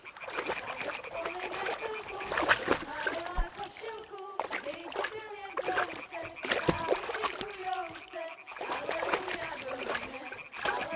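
A stone splashes into water in the medieval role-playing game Kingdom Come: Deliverance II, a brief splash amid steady in-game ambience with birds and frogs, while voices talk over it throughout.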